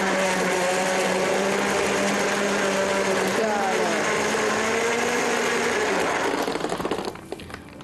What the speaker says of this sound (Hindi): थोड़ा सा हम इसमें पानी ऐड कर लेते हैं, बहुत थोड़ा सा, आसान, थोड़ा सा ये ब्लेंड हो जाए।